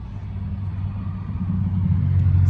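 A bus engine runs on a test drive, a low steady rumble that gradually grows louder and heavier toward the end, close by and with no speech.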